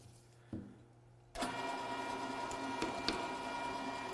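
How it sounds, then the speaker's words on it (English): Meat grinder running a quartered apple through to push out leftover venison, starting abruptly after a quiet moment with a continuous mechanical whir and a few sharp clicks and knocks as the fruit is forced in. "he likes to run that through the grinder to push out the rest of the meat"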